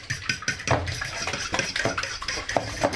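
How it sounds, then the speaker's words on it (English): A coconut oil mixture is whisked in a bowl, quick irregular clinks and scrapes of a utensil against the bowl at close range, fairly faint, with no talking. "Mixing that up, whisking away"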